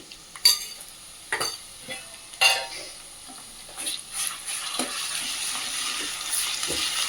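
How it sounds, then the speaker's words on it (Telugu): Homemade ginger garlic paste fries in a pan for a chamagadda curry, a soft continuous sizzle broken by sharp scrapes and clinks of a spoon stirring against the metal. "అల్లం వెల్లిపాయ పేస్ట్ కూడా కొంచెం ఎర్రగా వేగాలి"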